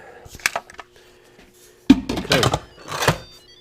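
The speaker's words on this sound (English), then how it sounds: "We are going to put our lid." An Instant Pot lid is set on and twisted into place: a sharp hard thunk followed by a few clattering, scraping knocks of the lid seating on the pot, close and fairly loud, with no talk over it.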